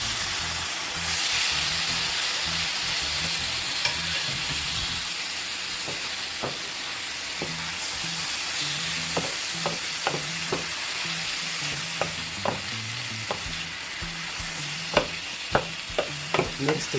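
Beef liver fries with onions and garlic in a pan under a constant close sizzle, and sharp spoon scrapes and taps come more often toward the end as the pan is stirred; no one speaks.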